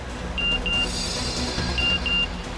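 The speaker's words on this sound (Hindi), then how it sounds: "डॉक्टर साक्षी का मैसेज आ गया।" Short electronic notification beeps from a phone receiving a message, two quick tones, a pause, then two more, heard over a busy background hum in a TV crime drama scene.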